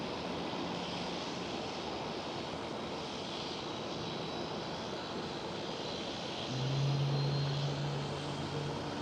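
A Boeing 777-300ER roars on its takeoff run from Schiphol's runway 24, the Kaagbaan, as a broad, steady jet rumble heard from a distance, with a low engine tone growing louder toward the end.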